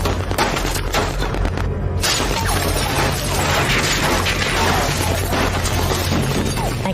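Sustained gunfire from the North Hollywood shootout, a dense, loud fusillade of overlapping shots and cracks rolling on without pause, with a brief dip near the start before the barrage resumes at full intensity.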